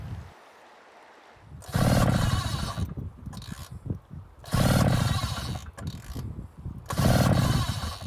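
A Mark III portable fire pump engine is pull-started three times, each yank a loud rasping, roaring burst of recoil cord and cranking engine lasting about a second, separated by short pauses with softer handling noises, and the engine never catches.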